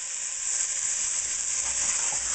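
Pork loin pieces fry in oil in a pan with a steady, close, bright sizzle and hiss that holds even and unbroken throughout, with no voices.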